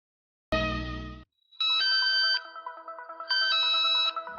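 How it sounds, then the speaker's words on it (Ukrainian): A mobile phone ringtone plays alone: a short burst, then a bright repeating electronic melody that loops twice, loud and close. "Мобільний телефон. Ваш друг і помічник."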